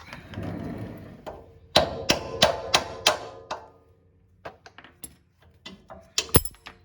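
A series of sharp metallic hammer strikes on a 3rd gen Toyota 4Runner's suspension, about five in quick succession, followed by lighter scattered clanks and knocks nearby.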